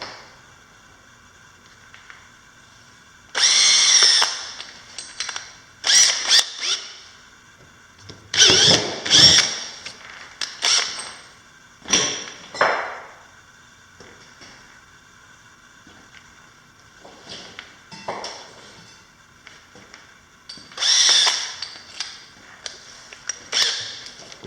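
A power drill with a large bit bores into a Honda 300 ATV in short, loud bursts of whining, separated by quiet gaps, close to the listener.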